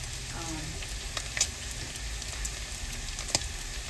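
Bacon sizzling steadily in a pan, a dense crackling hiss with occasional sharper pops, close and continuous.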